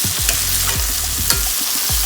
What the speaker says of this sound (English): Add a little flour to the pan to make us up some gravy.